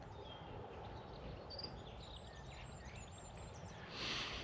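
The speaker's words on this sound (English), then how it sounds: "Hearing the birds tweeting away" Faint, scattered bird tweets drift over a dense outdoor ambience, a few thin chirps rising and falling at a distance.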